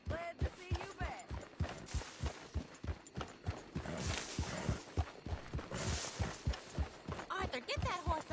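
Horse hooves clip-clop in steady, rhythmic beats in the Red Dead Redemption 2 video game, moderately close, under game voices and ambient noise.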